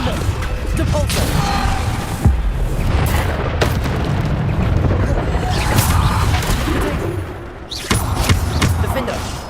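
Bombarda blasting spell explosions in the Hogwarts Legacy video game, dense booming blasts and crashing impacts over a loud, continuous game mix, with several sharp hits spread across the stretch.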